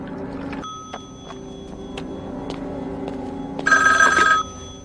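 A telephone rings in a quiet hotel-like interior in the GTA 5 video game, a steady tonal ring with a brighter, louder burst near the end over low room ambience.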